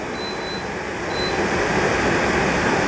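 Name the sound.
Trotec TTK 71 E dehumidifier running with compressor and fan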